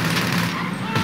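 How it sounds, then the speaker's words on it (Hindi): Gunfire from the video game GTA V erupts as a loud, continuous burst of rapid shots that fill the short moment without any pause. "अरे भाई गोली चला रहे ये लोग"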